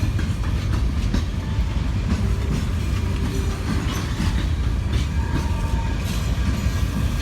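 A Norfolk Southern freight train rolls past close by, a loud continuous rumble with rhythmic wheel clatter and faint metallic squeals throughout.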